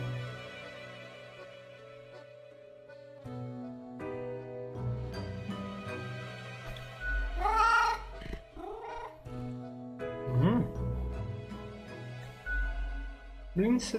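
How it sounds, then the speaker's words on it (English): A cat meows in a video game, a few short vocal calls rising over a steady tonal game music bed, with louder bursts in the middle and near the end. "The cat stares at you,"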